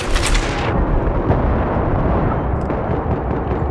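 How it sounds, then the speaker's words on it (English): A grenade detonates in a multiplayer first-person shooter match, a loud broadband blast at the start that settles into a sustained rumbling roar of gunfire and explosions, with no talk. "I had to get at least five with that grenade."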